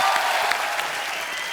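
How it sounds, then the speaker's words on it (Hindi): Studio audience on a Hindi TV comedy talk show applauds a guest, a steady, dense burst of clapping filling the whole moment without pause. "ब्रावो के लिए और जोरदार तालियां हो जाए यार"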